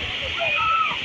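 A mountain waterfall roars steadily with a bright rushing hiss while people bathe and splash in it, the water loud and continuous over the whole brief moment.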